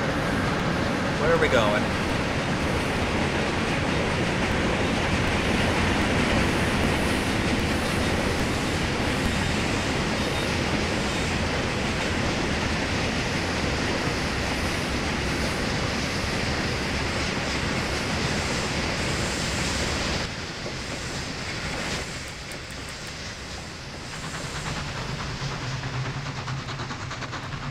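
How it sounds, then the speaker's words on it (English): A loud train in the video game Trainz rumbles past continuously with a steady roaring rail noise that eases near the end, while a voice briefly talks over it. "if I was living in this town and constantly heard this train going by, that would kind of suck"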